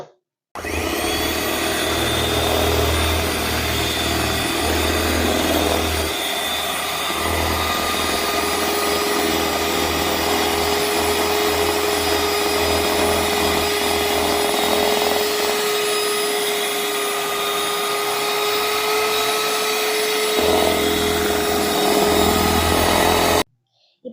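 An electric beater whips birthday cake batter, a close, steady motor whir that runs continuously with a few brief dips in load.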